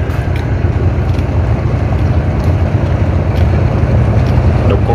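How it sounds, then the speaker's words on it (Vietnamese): Barges, some laden with cargo, push along a busy river at high water, their engines a steady low rumble mixed with wind buffeting the microphone and water wash, loud and continuous throughout. "xà lan cắm xà lan nổi tiến về tấp nập"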